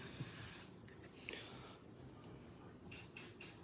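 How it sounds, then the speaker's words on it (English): Aerosol spray paint can hissing in short bursts to tint epoxy, faint and close, with pauses between sprays and small handling noises. "I'm going to use spray paint to help tint some of my epoxy."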